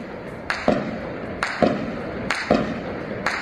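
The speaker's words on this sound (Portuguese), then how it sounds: "Isso é tiro, tá?" Four sharp gunshots from a shootout in a Rio de Janeiro community, spaced about a second apart, each a loud crack with a short echo, over a steady background rumble.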